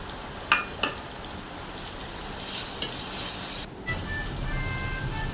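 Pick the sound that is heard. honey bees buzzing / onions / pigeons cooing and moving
onions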